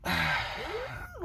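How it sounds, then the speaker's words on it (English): A dog's yawn, a single drawn-out breathy exhale that ends in a high squeaky whine, close and fairly loud. "That's his yawns."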